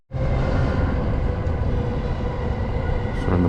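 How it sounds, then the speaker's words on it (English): A Tokyo subway train arriving at a station makes a loud, continuous rumble from the start. The mechanical roar stays steady, with faint higher squeals near the end and no talking. "And the train is here, so I gotta go."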